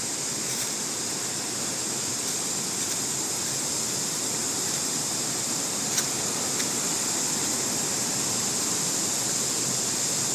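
The Mae Ya waterfall in Thailand roars steadily nearby, a broad continuous hiss and rumble of falling water with no break, no voices and only faint incidental clicks.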